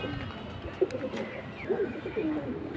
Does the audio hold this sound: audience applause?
no